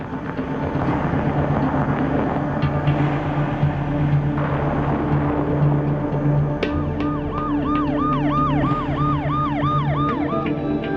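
An ambulance siren wails close and loud in a repeating rising-falling pattern over a steady background hum, with the cycles growing more prominent in the second half and no one speaking.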